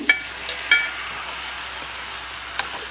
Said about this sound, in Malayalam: സോ നമുക്ക് തക്കാളിയും കൂടി ഇട്ടൊന്ന് വഴറ്റിയെടുക്കാം.